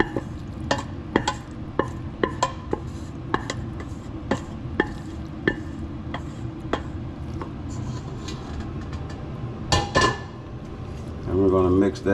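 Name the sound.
stirring macaroni noodles into cheese sauce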